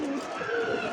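Fantail pigeons, including black and white Lakha birds, cooing in a continuous close murmur for about a second.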